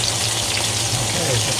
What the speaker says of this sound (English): Gotta do the edges, get them seared if we can.